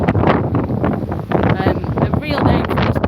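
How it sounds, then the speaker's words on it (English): Strong gusts of wind buffet the microphone on a beachfront promenade in Benidorm, a loud continuous roar with rising and falling surges throughout. "Strong gusts of wind coming out of nowhere."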